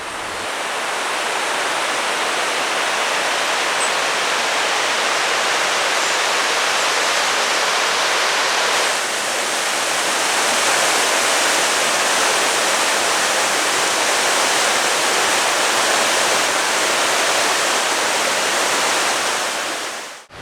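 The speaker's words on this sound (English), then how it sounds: "I'm down by the river now, look, see, there's the river" A river on Dartmoor rushes past close by, a loud, unbroken roar of flowing water that stays steady and dense for the full length with no voices.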